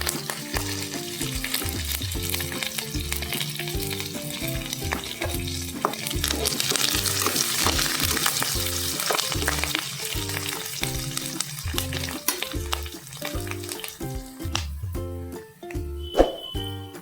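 Ginger garlic paste and curry leaves fry in a hot pan for rajma curry, with loud, steady sizzling throughout, occasional stirring clinks and a rhythmic musical backing underneath.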